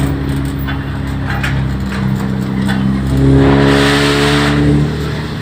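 Loud motor vehicles passing close on a road in rural Thailand, a steady engine roar with harmonic drone that swells louder near the end as one goes by, no talk.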